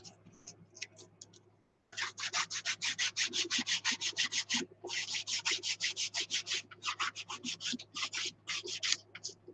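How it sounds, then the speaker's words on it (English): Sandpaper rubs back and forth over a torn paper edge on a canvas in fast, rhythmic strokes, close and clear. A brief quieter pause comes first, then a long run of evenly spaced scratchy passes. "So rip that part off the top and then sand it down."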